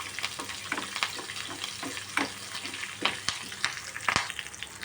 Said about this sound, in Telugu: తర్వాత సన్నగా కట్ చేసుకున్న పచ్చిమిర్చి, అల్లం, ఇవన్నీ బాగా వేగనివ్వాలి.